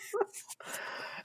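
A dog makes a short, close, breathy bark or whimper, then a muffled rustle follows in a quiet room.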